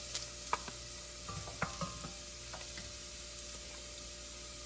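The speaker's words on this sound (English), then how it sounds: "And then we're going to saute the garlic, lightly saute." Garlic sautéing lightly in a pan for chili, a faint steady sizzle with a few soft stirring taps and clinks close by, no talk.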